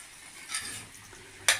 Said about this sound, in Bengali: এবার পনির দিয়ে দিচ্ছি